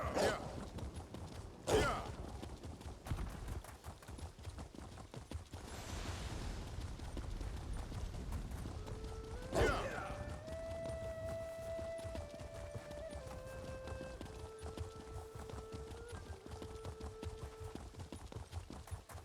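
Horse hooves clip-clop steadily during a ride in the Elder Scrolls Online game, with creaking tack, a few loud thumps and a rising and falling tonal sweep mixed in, all fairly quiet.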